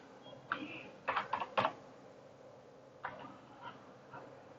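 Computer keyboard typing as an employee name is entered, a quick cluster of close key clicks followed by a pause and a few scattered keystrokes in a quiet room.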